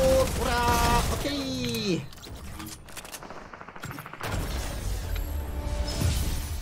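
SMG fire in the video game Fortnite, with rapid bursts of shots crackling amid game sound effects and music-like tones, partly under a player's speech.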